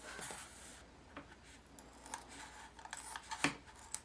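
Scissors snipping through a rhinestone heat transfer vinyl design, quiet close cuts with soft rustling of the sheet and a few sharper clips toward the end.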